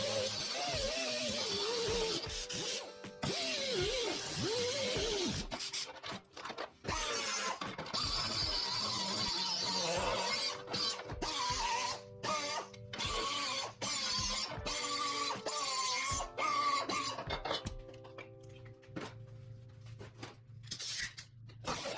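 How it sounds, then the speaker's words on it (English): A grinder cleaning up a weld on a fabricated filler panel under a car hood, running as a continuous harsh whine with shifting pitch and brief dips, close and fairly loud throughout, no talking. "So I'll clean that up with the grinder."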